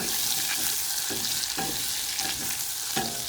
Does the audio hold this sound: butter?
yes